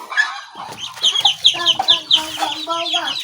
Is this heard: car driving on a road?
no